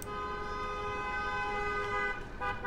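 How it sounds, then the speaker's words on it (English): A loud, sustained car horn in the video game Cooking Simulator blares steadily for nearly three seconds, with a slight waver near the end. "It's a real loud car horn."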